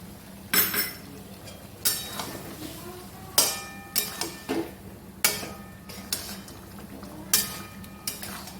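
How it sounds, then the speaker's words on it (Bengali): Biryani masala being worked by hand or spoon into raw chicken in a pot, a series of sharp metallic clinks and scrapes at irregular intervals, close and moderately loud with a faint steady background hum. "মশলাটা মাখিয়ে ভালো করে"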